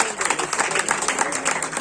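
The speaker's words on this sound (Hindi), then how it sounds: "जोरदार तालियां हो जाए।" Audience applause at a school results announcement for class 9 and 10 students, a brisk, dense spell of clapping from a crowd, unbroken by speech.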